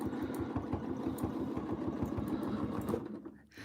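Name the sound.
sewing machine quilting stitch in the ditch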